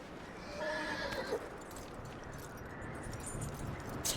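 A whinnying horse in Red Dead Redemption 2, caught in a blizzard, with clip-clopping hooves and wind noise filling the background, the neigh rising early and fading.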